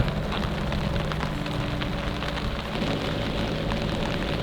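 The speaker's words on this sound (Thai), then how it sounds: "ตอนนี้ฝนตกแล้ว" Steady rain pours at a campsite beside the Mae Ngat dam, a dense continuous patter on surfaces that stays loud and even throughout with no voices.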